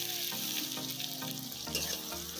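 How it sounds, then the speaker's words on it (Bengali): Chopped onions fry in hot oil in a pan at home, a steady sizzle and crackle up close, with a few clinks and stirring knocks, and no voices. "এবার আমি কেটে রাখা পেঁয়াজগুলো তেলের মধ্যে দিয়ে দিলাম।"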